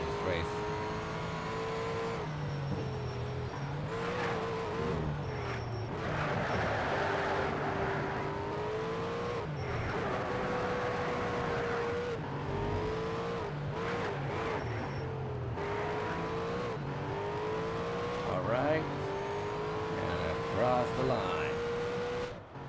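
Race cars roar through an invitational event in Need for Speed Shift on PlayStation 3, engines revving and shifting with rising and falling pitch, tires squealing at moments, loud and continuous throughout, with a voice talking over the racing at times.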